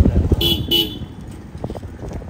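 A car horn gives two short honks close by, heard over engine rumble and background chatter.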